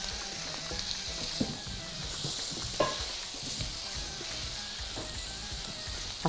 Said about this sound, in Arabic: يلا هبدا بقى اشوح الطحال والفشه بالشكل ده.